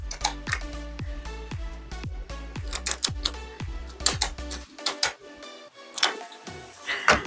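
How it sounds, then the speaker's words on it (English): Kitchen shears or a knife cutting lobster tails in half for a Thai seafood coconut curry, a quick series of sharp crunching snips, close and crisp, with a steady low hum in the first part. "my mom would cut the lobster tails in half. So we're gonna cut them in half like so."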